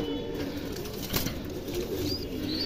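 A pair of pet pigeons and their healthy chicks, kept at home, coo softly in a steady low murmur with occasional wing flutters, close by and without speech.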